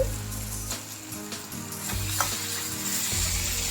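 Ginger garlic paste with tomatoes sizzles steadily in a hot pan for pav bhaji, a continuous close frying hiss broken by a few scraping stirs.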